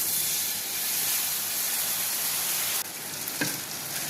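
Uttapam batter seasoned with mustard seeds, curry leaves and hing fries on an oiled tawa, producing a continuous close crackling sizzle and hiss with a faint scrape partway through.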